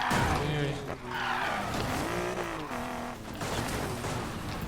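Nissan Skyline racing car in Need for Speed Payback, engine revving with rising and falling pitch and tyre squeal, heard under someone talking.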